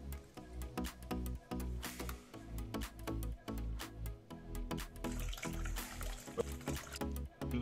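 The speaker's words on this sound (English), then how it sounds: "Just going to rinse the fish in a vinegar solution to cut the roundness." Water runs from a tap while fish and lobster are rinsed in a vinegar and water solution for Jamaican escovitch fish, steady splashing and trickling with irregular clatters and handling bumps close by.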